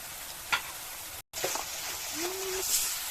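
Spiced masala paste hitting hot oil seasoned with black cumin, giving a steady broadband frying sizzle with a brief cut to silence midway, a soft stirring scrape, and a faint rising tonal squeak near the end.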